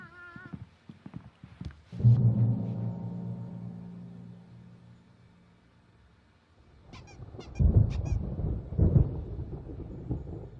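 A thunderstorm rolls through the Alan Wake Remastered video game: a deep rumble of thunder swells and fades, then a second heavy crash arrives, with quieter creaks and clatter between.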